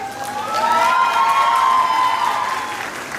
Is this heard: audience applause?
yes